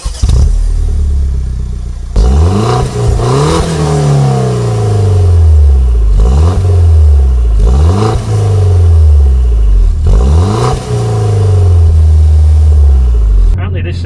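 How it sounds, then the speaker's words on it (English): Peugeot 208 GTI engine and exhaust heard from inside while driving, repeated rising revs through the gears with drops at each change, loud and close, with people talking over it. "Sounds great, you can hear the exhaust out the back, can't you?"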